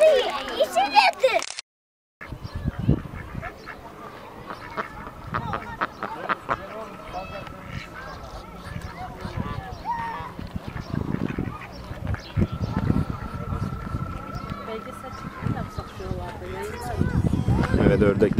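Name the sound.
ducks quacking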